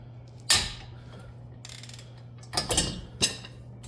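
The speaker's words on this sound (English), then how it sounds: "here I have my 3/8 ratchet with my 1/4 inch socket, and then my T30 Torx bit" A 3/8-inch ratchet with a 1/4-inch socket and T30 Torx bit works loose a wheel hub bolt on a 2018-2021 Chevrolet Equinox 2WD. Three short, close bursts of clicking and scraping stand out against a quiet background.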